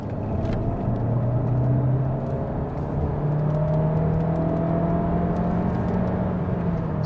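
A 2024 Skoda Kodiaq engine drones steadily while driving in traffic, a smooth in-cabin hum with slowly shifting tones and a faint road rumble.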